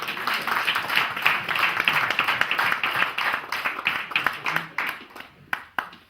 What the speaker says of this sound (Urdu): آپ کی گونجتی ہوئی تالیوں کے ساتھ لارڈ صاحب کا استقبال کیجیے